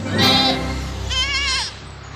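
A pregnant Anglo-Nubian goat bleats twice up close, two loud wavering cries with a short gap between them over a steady low background hum.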